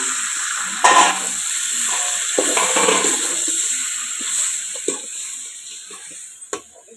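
Quail gravy ingredients sautéing in hot oil in a home kitchen, a steady close sizzle and hiss with occasional stirring scrapes and small pops, no talk.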